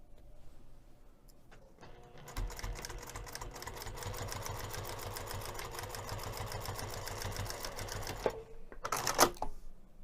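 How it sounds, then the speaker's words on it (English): A sewing machine stitches a sling-style strap onto a backpack with an eighth-inch seam. Quiet handling comes first, then a steady rapid run of stitching for about six seconds, then a pause and a short final burst, faint and close. "We're going to stitch this strap down using 1/8 of an inch seam allowance."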